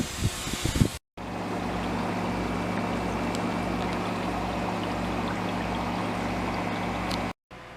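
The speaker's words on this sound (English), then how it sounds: "Now we're just going to hit it with the basic antifungal. We're really going to soak this seed." Antifungal solution sprayed over a tray of radish microgreen seeds, a steady continuous hissing spray lasting several seconds, close and even, bracketed by brief handling noise.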